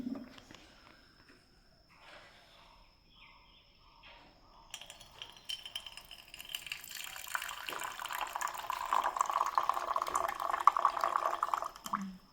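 Water pours into a vessel to make Darjeeling tea. After a quiet start with a few soft clinks, a steady splashing fill rises and continues for several seconds, with no talking.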